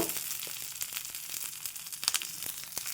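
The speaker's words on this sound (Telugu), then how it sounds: "కాస్త కరివేపాకు వేసుకున్నాను ఒక చిటికెడు ఇంగువ వేసుకున్నాను" Curry leaves and a pinch of asafoetida hit hot oil for a tempering, giving a soft, steady sizzle with faint crackles and pops, close but quiet and without speech.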